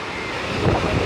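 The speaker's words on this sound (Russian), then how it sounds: "Хотела показать волны, меньше не становятся." Sea waves wash onto the beach at Anapa in a steady broadband roar, heavily mixed with wind buffeting the microphone, swelling slightly toward the end.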